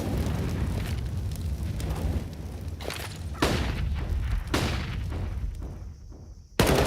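An HE grenade goes off in Counter-Strike during a pro match at IEM Rio 2023, with heavy booming blasts and sharp cracks over continuous game noise, then a loud burst at the very end.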